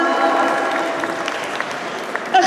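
A children's talent group performance audience claps and applauds steadily, a dense patter of many hands at moderate loudness with a few faint voices underneath.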